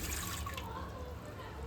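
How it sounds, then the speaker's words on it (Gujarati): Water poured from a glass into a pressure cooker, a faint, soft splashing trickle over a low background rumble, brief and without clear talk. "1 ગ્લાસ પાણી ઉમેરી દઈશું."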